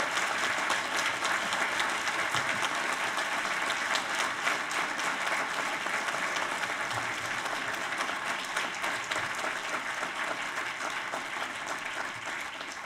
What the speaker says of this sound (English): please join us in a round of applause for our graduates